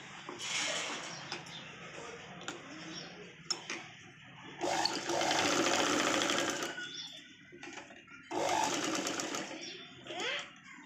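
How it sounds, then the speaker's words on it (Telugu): A sewing machine runs double stitching on a Punjabi dress top, its rapid whirring stitch bursts starting and stopping several times at close range, with brief handling noises between runs. "ఇప్పుడు డబల్ స్టిచ్చింగ్ అనేది వేసుకుందాం"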